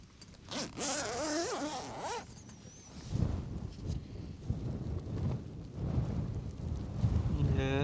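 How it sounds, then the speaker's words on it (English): Wind gusting around a Hilleberg Nammatj tent on a Scottish mountain in rain, a loud rumbling buffet with fabric rustling and flapping close by, and a sharp zipper pull at the start. "it's a wee bit windier now"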